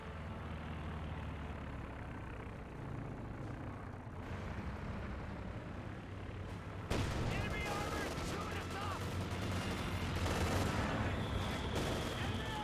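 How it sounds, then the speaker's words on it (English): Mortar fire in the game Company of Heroes 2: dense battle noise with rumbling blasts and scattered gunfire, growing louder and busier halfway through, with no pauses. "Here comes the mortars."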